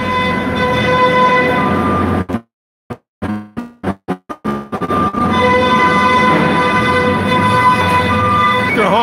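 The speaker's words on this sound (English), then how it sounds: "They're honking the horn" Forklifts honk their horns inside a busy warehouse while a semi truck is loaded. Loud, steady horn tones sound close, break into a series of short choppy bursts with gaps, and then resume as long sustained blasts.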